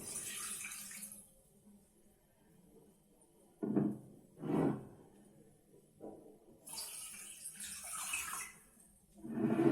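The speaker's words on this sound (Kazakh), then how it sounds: "Мен 2 стакан су құямыз." Two glasses of water poured into a pot holding onion skins, heard in a few separate splashy pours with quiet pauses between them.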